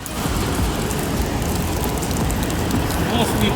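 Heavy rain pouring down, heard from inside a road tunnel during a motorcycle trip in Turkey, a loud, dense, steady wash of noise with a low rumble beneath, continuous from start to finish.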